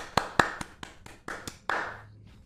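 A handful of sharp hand claps, irregular and fairly close, spaced out over a couple of seconds, with a faint low hum underneath.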